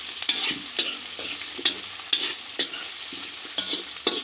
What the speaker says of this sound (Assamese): ভালকৈ অকণ ভাজি ল'ব লাগিব